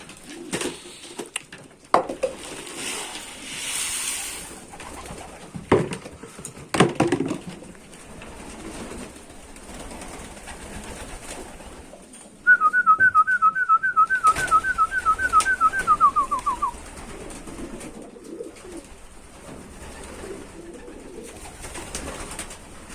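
A pigeon coos in a soft, repeated rolling call, close by, amid scattered rustles and knocks in a quiet room.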